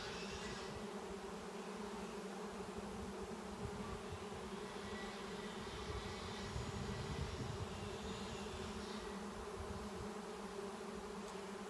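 A honey bee swarm buzzes in a continuous, dense drone, many wings humming at a steady, moderate level with no pauses or other sounds.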